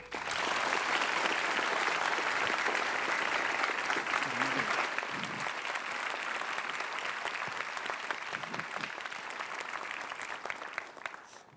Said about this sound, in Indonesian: Berikan tepuk tangan untuk Amin.